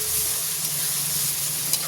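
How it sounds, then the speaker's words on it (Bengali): Onions browned to a nutty red sizzle in hot oil with extra ginger-garlic paste, a steady close frying hiss holding even throughout with no talking. "এটা একটু ভেজে নিই।"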